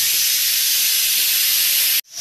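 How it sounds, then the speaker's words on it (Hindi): A pressure cooker on a gas stove whistles with a loud, steady hiss of escaping steam for about two seconds, then cuts off abruptly, leaving a faint background. "तो हमारे कुकर की पहली सीटी लग गई है"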